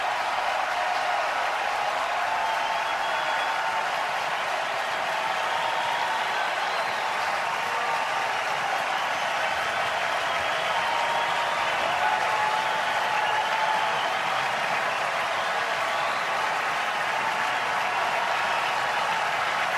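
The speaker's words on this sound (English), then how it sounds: "Crowd getting into it." A sellout crowd at a Cubs–Yankees baseball game at Wrigley Field, a steady, loud roar of cheering and applause sustained without a break throughout.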